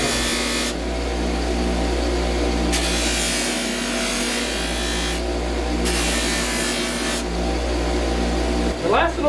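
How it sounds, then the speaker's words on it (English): Metal being dry-polished with fine-grit polish gives a steady, continuous rubbing whir over a constant mechanical hum, loud and close, with the texture shifting in several distinct stretches. "Final step is polishing the metal."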